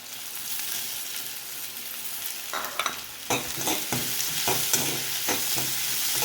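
Sliced large onion, curry leaves and dried red chillies fry in a pan with a steady sizzle, broken by a few sharp crackling bursts as the ingredients are stirred and turned, close and continuous with no talk.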